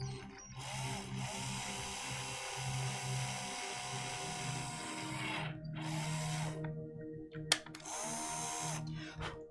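A small power drill bores holes into a 3D printed plastic miniature dragon, whining steadily at close range with brief pauses and changes in pitch as the bit bites in.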